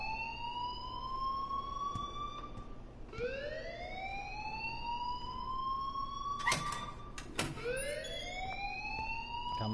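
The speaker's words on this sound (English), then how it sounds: "please turn off that alarm since that's your job" A fire alarm in the game Life is Strange wails in repeated rising sweeps, several cycles in a row, steady and moderately loud, with a few sharp clanks breaking in near the end.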